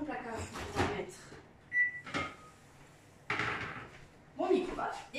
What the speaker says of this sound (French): Je vais aller ouvrir mon placard